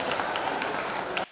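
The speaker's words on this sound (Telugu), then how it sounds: "చప్పట్లు కొట్టండి." An audience at a high school old students' gathering claps together in one brief, dense burst of applause that stops abruptly.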